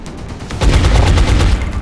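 Burst of rapid gunfire in XCOM: Enemy Within, a loud close volley of overlapping shots that starts after a brief lull and rattles on for just over a second.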